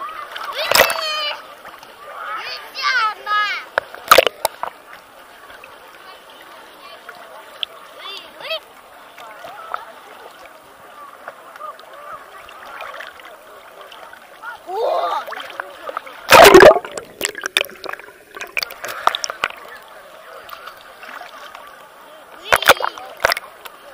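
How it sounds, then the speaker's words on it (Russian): Waves splash and slosh against a small boat on open water, with irregular bursts of spray and one sharp heavy splash midway. Excited voices of a child and an adult call out over the water throughout. "Опа! Волна!"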